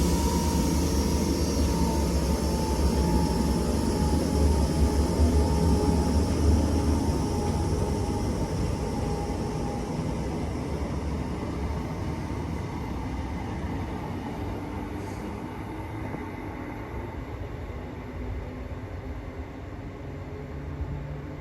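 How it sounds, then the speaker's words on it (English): A class 319 electric train pulls away from St Helens Junction station with a broad, steady rumble and hiss that is loudest early and slowly fades over about twenty seconds, heard from the platform with no talking. "Train now departing is class 319 going to Crewe."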